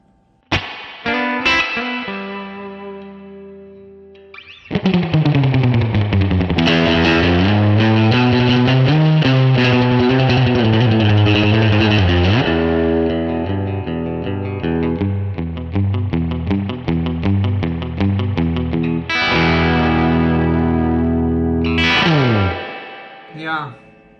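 Electric guitar played through a Universal Audio Dream 65 reverb pedal, ringing chords and sustained notes with lush reverb tails, loud and close, pausing briefly before swelling again and decaying at the end.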